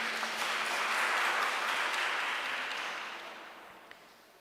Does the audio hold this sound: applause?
yes